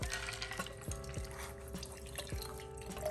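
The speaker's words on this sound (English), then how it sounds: "Where am I dripping so bad from?" A cocktail drips faintly while being strained, with soft, irregular droplet ticks over a low, steady background hum and no voices.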